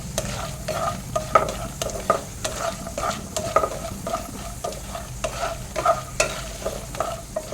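Food frying in a pan, a continuous crackling sizzle with repeated rhythmic scrapes and taps of a spatula stirring, close and steady, with no talking.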